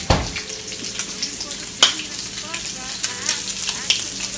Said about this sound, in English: I'm just going to flip my bacon over